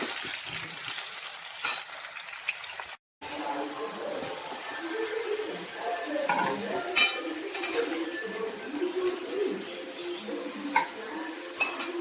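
Potatoes fry in oil until reddish, with a steady crackling sizzle, scattered pops and occasional stirring clinks, with some faint talk in the background.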